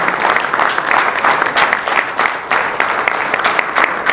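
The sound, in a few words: audience applause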